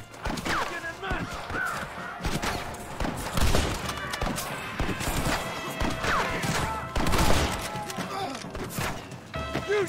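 Rapid western gunfire in Red Dead Redemption (2010) on Xbox 360: dense, overlapping shots and sharp cracks fire in irregular bursts throughout, with shouted voices mixed into the shootout.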